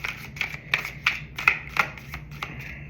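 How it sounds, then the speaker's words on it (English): A large deck of cards being shuffled close up, a rapid series of crisp riffling bursts in a steady rhythm. "Big decks are kind of difficult to shuffle."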